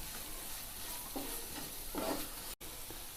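Masala spices frying in oil for a mushroom gravy while being stirred, with a steady sizzle and a few scraping strokes of the spoon in the pan, close up with no talk.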